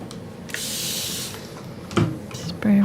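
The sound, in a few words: spray bottle misting water onto an acrylic painting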